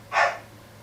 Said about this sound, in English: And I do apologize for the barking dog.